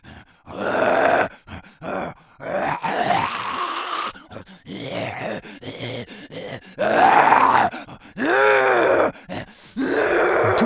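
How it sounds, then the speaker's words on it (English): Aggressive fast zombie creature vocalizations for horror sound design, a run of snarling groans, guttural grunts and raspy shrieks in irregular bursts with short pauses, loud and close. "This shift called for a more aggressive, frightening sound to match their new behavior, and that became the dominant vocal archetype for fast zombies/infected."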